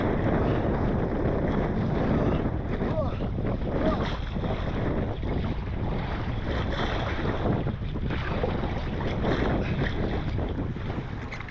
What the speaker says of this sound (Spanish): La verdad que me asusté bastante con las olas, con el viento en contra.